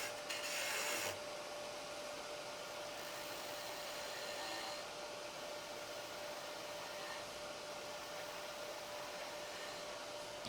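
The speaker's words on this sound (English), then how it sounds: "you can even sand it when it's like this." A wood turning being sanded while it spins on a lathe, a steady faint rubbing hiss over the constant hum of the running machine, with a brief louder scrape at the start.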